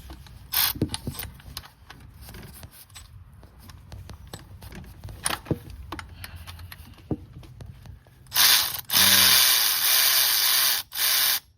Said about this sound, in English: All right, let's get that pulley taken off. It's a 14 millimeter